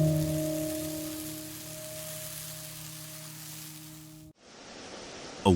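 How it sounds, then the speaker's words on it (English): Rain falls in the Amazon jungle as a soft, steady hiss under a low droning hum that cuts out near the end, leaving only the patter. "the first rains of the season have appeared."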